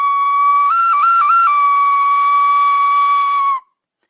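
A clay whistle sounds one sustained, bright tone, loud and close, with a quick stepped warble near the start, then holds steady before cutting off cleanly after about three and a half seconds.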